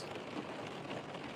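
Rain falling at night, an even, soft patter and hiss that stays constant and fairly quiet throughout, with no voices over it.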